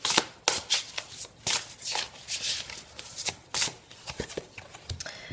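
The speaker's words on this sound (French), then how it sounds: "on va prendre une petite carte," Oracle cards are shuffled and one is drawn: close, loud bursts of riffling and slapping card sounds in quick irregular runs, with no voice over them.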